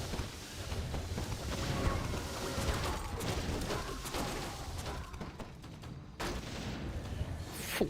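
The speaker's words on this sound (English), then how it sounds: "Four mortar teams, so much damage." Mortar teams in Warcraft 3 firing repeatedly in a dense barrage, with booming shots and impacts layered over continuous battle noise at steady loudness throughout.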